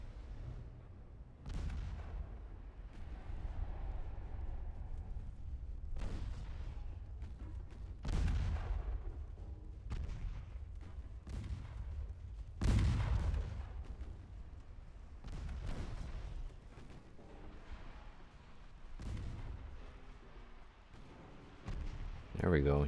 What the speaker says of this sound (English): But their 4-inch gun is still firing away.